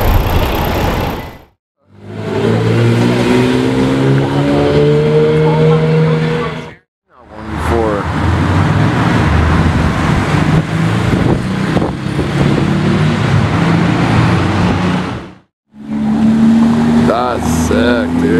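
Two Porsche Carrera GTs with V10 engines scream past in loud, high-pitched bursts, their rising revs separated by brief silences, with people talking in the background.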